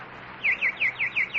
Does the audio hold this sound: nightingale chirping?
yes